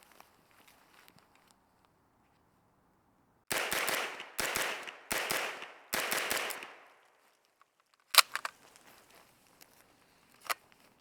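Four loud, sharp broadband bursts from a MAC 5 rifle in quick succession, followed after a pause by a few fainter sharp cracks, heard alone with no talk.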